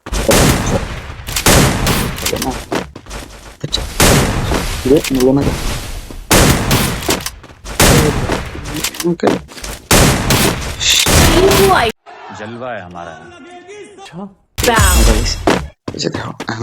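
Rapid bursts of gunfire from a shooting video game crackle loudly in repeated clusters, with short pauses and a quieter stretch of muffled game sound in between.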